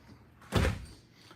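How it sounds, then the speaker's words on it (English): A door swings shut with a single solid thud, close and short, followed by quiet. "I'm gonna close the door because it's just making a lot of noise."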